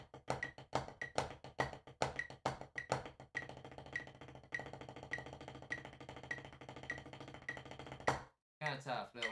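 Snare drum played as a rudiment exercise, alternating diddles and single strokes back to back in a fast, steady stream of crisp hits. The playing is close and loud and stops abruptly near the end, followed by a brief different sound.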